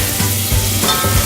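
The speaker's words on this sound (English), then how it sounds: "right now we're sauteing the onion with the olive oil" Onion sautéing in olive oil gives a loud, continuous close sizzle with a few soft stirring scrapes, brief and with no voices.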